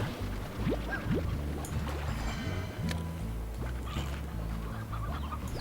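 Chickens clucking in the video game Slime Rancher, a run of short, scattered clucks and squawks over a steady background game drone, with no one talking.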